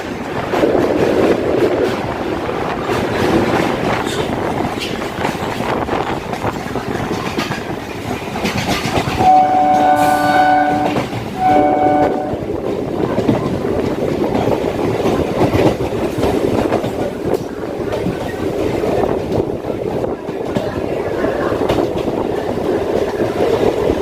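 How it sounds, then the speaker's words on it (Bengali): A train runs beside the Ganges river between Sealdah and BBD Bag, its loud steady rumble and rhythmic clatter of wheels continuing throughout, with a short horn blast partway through. "তার পাশ দিয়ে ট্রেন ছুটে চলেছে"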